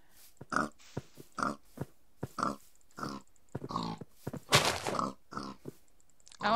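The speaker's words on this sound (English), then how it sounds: "Why can't you not hit that pig?" Blocky pig in Minecraft grunting repeatedly, a series of short, nasal oinks in an uneven rhythm, fairly close and clear, with no talk over them.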